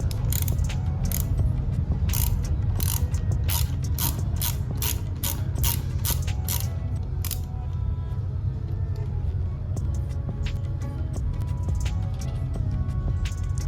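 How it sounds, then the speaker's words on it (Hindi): A ratchet wrench loosens a 10 mm nut on a Royal Enfield Himalayan motorcycle, giving loud, close, rapid bursts of clicking pawl strokes in repeated runs over a steady low mechanical hum, with no talk. "ये वाला नट 10 mm का नट है, you have to just लूजन it"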